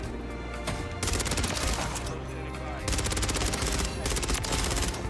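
The ISO 9mm submachine gun in Call of Duty Modern Warfare 3 fires in two long, rapid automatic bursts, loud and continuous, with game noise between the bursts.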